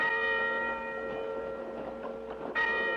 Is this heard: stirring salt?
no